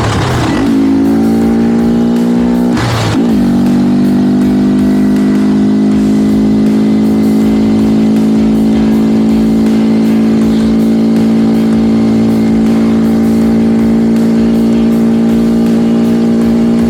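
Honda Grom motorcycle fitted with a K&N air filter: a sharp blip of the throttle, then a second rev, before the engine settles into a loud, steady, buzzing drone held close up with no talk.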